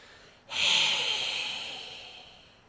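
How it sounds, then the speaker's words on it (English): One long, breathy unvoiced exhalation as a voice training exercise starts abruptly and hisses strongly, then fades gradually over about two seconds, close and alone. "we're just breathing out in the shape of sounds"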